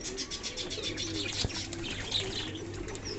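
Several fancy pigeons bathe together in a small water bowl, soft cooing and occasional chirps mixing with light splashing and a brief wing flutter, close and continuous.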